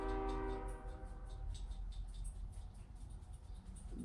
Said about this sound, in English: Sorry about the trains in the background.